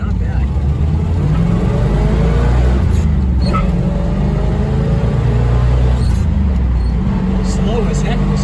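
A slow car driving along, its engine giving a loud, steady droning hum with some revving throughout, and a voice talking over it.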